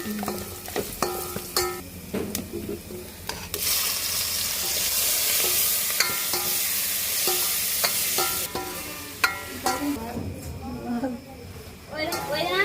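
Tomatoes with turmeric fry in hot oil, a close steady sizzle broken by scraping stirs and clinks of a ladle, while women chat over the cooking.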